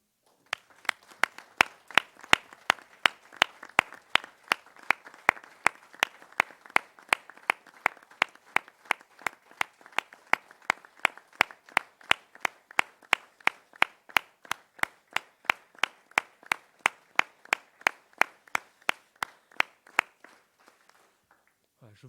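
Municipal council members applaud in a meeting room, a steady run of evenly spaced, crisp claps that continues for about twenty seconds and then stops abruptly.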